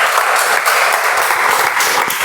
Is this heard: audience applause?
yes